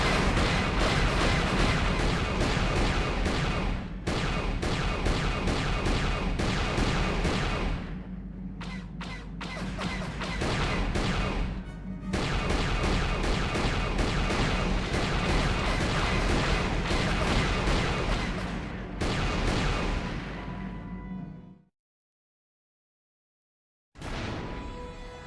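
Dense, continuous barrage of incoming blaster fire and explosions in Star Wars: Knights of the Old Republic, loud and booming with heavy low thumps, running for about twenty seconds before cutting to silence, then resuming briefly.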